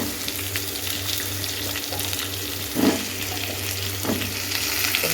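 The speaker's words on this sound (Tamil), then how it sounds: "வெங்காயம் கொஞ்சம் நல்லா வதங்கினதுக்கப்புறம் தக்காளி போட்டுக்கலாம்." Onions and tomatoes fry in a pan for a homemade chutney, giving a continuous close sizzle with a few louder stirring scrapes and clinks along the way.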